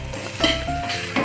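Boiled potatoes frying in a kadai with very little oil for a home-style poha, a close, steady sizzle with faint pan and utensil clatter and no talking.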